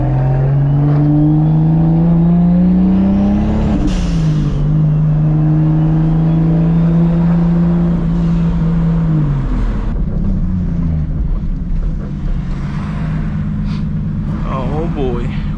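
A straight-piped, turbocharged Toyota Supra accelerates hard in 4th gear, its loud, steady engine drone climbing in pitch and filling the whole stretch while voices are heard over it.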